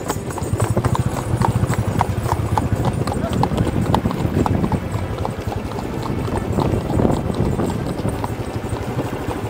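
Horses' hooves clip-clop in a steady, close rhythm as riders climb a mountain trail, with people talking loudly over the hoofbeats throughout.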